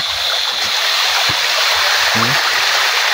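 Mountain spring water stream flowing steadily in a loud, continuous rushing wash close by, with brief low voices audible beneath it.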